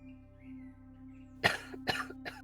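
Three short, harsh coughs in quick succession, close by, over a steady low hum with faint chirps in the background.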